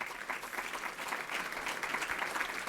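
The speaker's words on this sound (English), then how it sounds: "Give them a round of applause." An audience at an annual emerging manager conference in New York City applauds. The clapping is sustained and steady for the whole stretch, with no speech.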